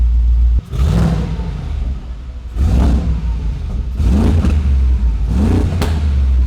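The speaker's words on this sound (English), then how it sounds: "I didn't just rev it off a cold start" A warm Mercedes G-Wagon with a rebuilt engine revs loudly in four repeated bursts, each rising to a throaty roar and falling back toward a deep idle, with no talking.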